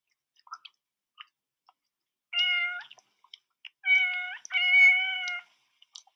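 Kitten meowing in the 1971 film Godzilla vs. Hedorah, a few short, clear meows close by, the longer cries coming in two bursts over faint scattered clicks, with no talk.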